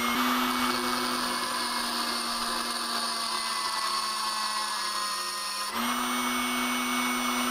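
A steady, loud high-pitched whine of a power drill running continuously with a cheap drill bit, with a brief dip in pitch near the end before it resumes.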